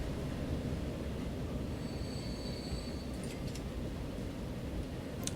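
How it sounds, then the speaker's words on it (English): A train slowing to a stop in the Transport Fever video game, with a steady rolling rumble and a thin metallic wheel squeal rising midway, followed by a few brief clanks near the end. "when it stops, I'm going to stop that train."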